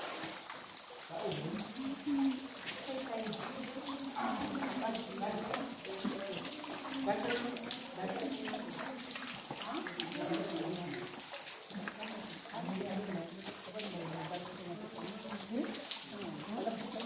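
Clear, very cold water flows steadily and close by, a continuous gurgling wash that runs underneath people talking throughout.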